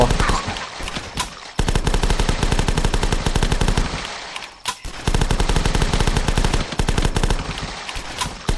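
Rapid automatic gunfire rings out while zombies are shot in the video game The Last Stand, with loud, dense bursts that run almost continuously and break only for brief pauses.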